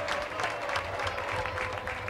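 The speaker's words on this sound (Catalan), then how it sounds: "que s'emporta aquest aplaudiment." Football stadium crowd applauding captain Albert Blázquez as he enters the pitch at a UE Olot versus FC Barcelona match, a broad, steady wash of clapping from a distance with a constant low hum underneath.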